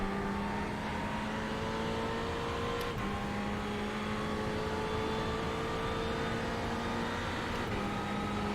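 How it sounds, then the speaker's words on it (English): Race cars in a VLN endurance race drone under steady, loud engine noise, with rising and falling engine tones as cars close in and pass; one continuous roar with no talk. "He will pass the BMW."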